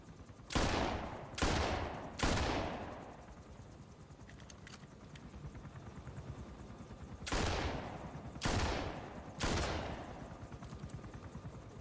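Gunfire in the video game Metal Gear Solid V comes as six loud reverberant shots, three early and three late, split by a quieter stretch of droning background.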